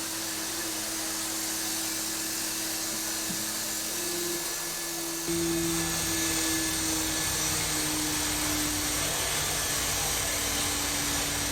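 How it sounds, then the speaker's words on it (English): A robot lifting a box with vacuum suction gives a steady, loud whooshing suction roar with a faint whine, stepping up to a stronger hiss partway through and continuing steadily. "Is it using, like, a vacuum to suck the box?"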